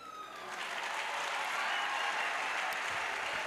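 Congregation at an evangelistic crusade and healing service applauding in acclamation, a steady broadband wash of many hands clapping together that swells in and holds loudly throughout, with no voices standing out.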